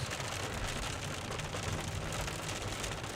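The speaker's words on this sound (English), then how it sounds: "Just looking behind us, a little rain shower is formed." Light rain shower falling during a storm chase in Iowa, a steady soft hiss of drops on surfaces, close and even throughout with no voices.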